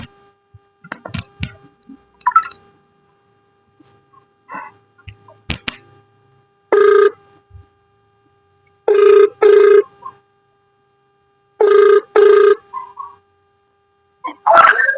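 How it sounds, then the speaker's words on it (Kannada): An outgoing phone call plays a ringback tone as pairs of short rings repeated about three times at regular intervals, clear and close, with small handling noises between them and a brief voice at the end. "ಈಗಲ್ಲೇ ಇವಾಗ ಒಂದು ಫೋನ್ ಹಚ್ಚೋಣ"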